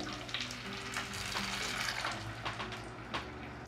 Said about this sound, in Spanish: Y ahora sí vamos a agregar nuestra salsa que preparamos.